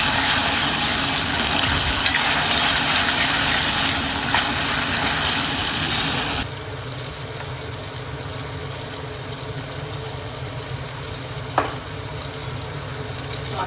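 Ginger garlic paste fries in a pan with a loud, steady hiss and crackle that drops suddenly to a quieter, softer sizzle partway through and carries on evenly, with no talk.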